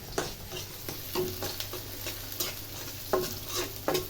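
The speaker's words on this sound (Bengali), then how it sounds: "মাছটা হয়ে গেছে, শাক ভাজি করতেছি। শাকটা আগে দিয়ে দিই, পালং শাকটা" Spinach greens being stir-fried in a pan, giving a steady close sizzle broken by repeated scraping stirs of a utensil, with no talking.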